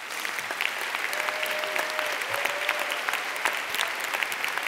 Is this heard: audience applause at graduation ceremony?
yes